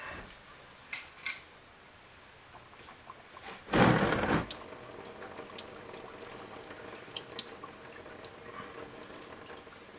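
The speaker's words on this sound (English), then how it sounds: "just crack it a little bit to where it starts leaking oil, and then just kind of chill out and wait for it to stop draining" Motor oil trickles and drips from a loosened drain plug on a 2014 Lincoln MKS 3.7 during an oil change, a low steady liquid hiss with a brief louder gush of pouring near the middle, then soft continued dripping.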